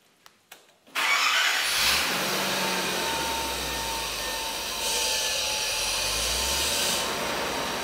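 A Nissan President car engine starting for the first time after fuel tank work: a few sharp cranking clicks, then it catches and settles into a steady, close idle with slight surges.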